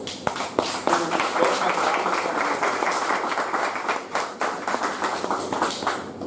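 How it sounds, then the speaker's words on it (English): An audience claps at a club officer installation ceremony. Scattered early claps quickly build into steady, moderately loud applause that lasts about six seconds and thins slightly toward the end. "Let us give a big round of applause."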